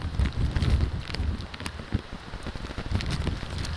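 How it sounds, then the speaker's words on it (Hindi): Heavy rain and strong gusting winds from Cyclone Nisarga lash the coast at Alibag, a dense roaring hiss with buffeting wind bursts hitting the microphone throughout. "ज़ोरदार बारिश हो रही है, ज़ोरदार तेज़ हवाएं चल रही हैं।"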